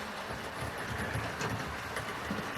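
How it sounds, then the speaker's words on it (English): A green model locomotive pulls a Southern coach around a Somerset and Dorset layout, giving a steady, even rumble and rolling hum throughout with no voices. "so we can see this train go around now"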